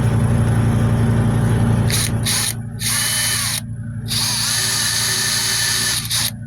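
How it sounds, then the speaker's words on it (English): A power drill bores out the rivet on a rider safety buckle, giving a loud, steady whine close by with a few short stops and restarts partway through. "Then go back to our drill bit."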